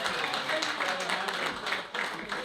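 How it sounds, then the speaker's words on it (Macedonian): Steady applause from an audience at a veterans' football reunion of FK Teteks and FK Ljuboten in Tetovo, a dense continuous clapping wash lasting a few seconds with slight swells. "ајде еден аплауз за Даре Јовчевски"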